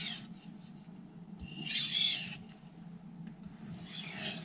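Knife blade drawn in a few alternating strokes across a Naniwa 2k whetstone: close, dry rasping scrapes in short bursts over a low steady background hum.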